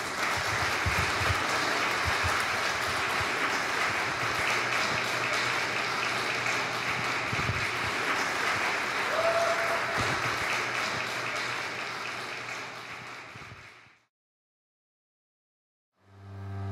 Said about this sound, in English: Let us now give our applause to them.